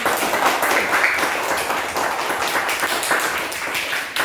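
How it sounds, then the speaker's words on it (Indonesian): A school class claps their hands together at the end of a lesson presentation, a steady, fairly close patter of many small hands with no talk over it. "Tepuk tangan."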